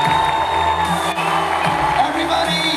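A crowd in Salt Lake cheers, whoops and applauds loudly for actress Kate Beckinsale, a continuous roar with shouts on top and a voice calling out over it.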